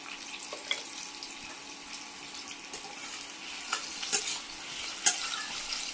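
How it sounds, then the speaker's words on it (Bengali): Potatoes frying in oil in a pan for a bhindi dish give a soft, steady sizzle with occasional stirring clicks and brief louder crackles, close by and alone with no talk. "আলুগুলো একটু ভাজা হতে থাক"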